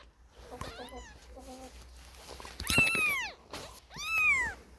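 Small kitten mewing in several high, rising-and-falling cries, close and fairly loud, with short gaps and handling noise between calls; one cry is sharper and longer, with a quieter double mew near the start.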